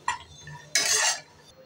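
Roasted cashews and almonds lifted out of hot ghee in a pan, heard as a few sharp metal spoon scrapes and clinks against the pan, with one longer louder scrape in the middle and no talking.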